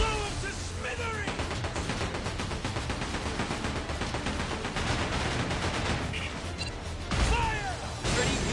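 Pirate ship cannons fire in a video game, a rapid run of booming blasts and crashes layered over game music, with a heavier hit near the end.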